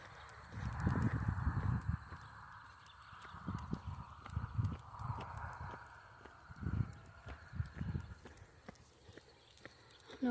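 Horse hooves clip-clop nearby outdoors, a series of irregular, dull thudding steps of moderate loudness over a soft background hiss, continuing for about ten seconds.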